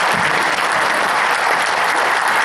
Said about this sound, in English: So a big round of applause for both of our judges.